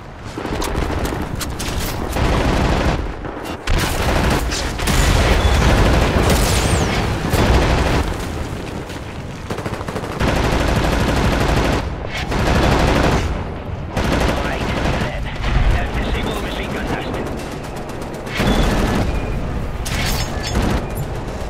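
Sustained automatic gunfire and explosions in the WWII-style shooter Wolfenstein: The New Order, rapid loud bursts rolling almost continuously over dense battle noise with a few brief lulls.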